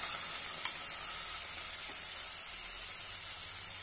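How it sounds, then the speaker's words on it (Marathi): Green peas sauté in an open pan for a cabbage and pea vegetable dish, giving a soft, even hiss of frying that stays steady throughout, with one small clink early on. "आता यामध्ये वाटाणे घालूया, ते पण परतून घेऊया"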